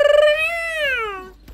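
A voice mimics a cat, drawing out a single long, loud, wavering meow that rises and then falls before trailing off.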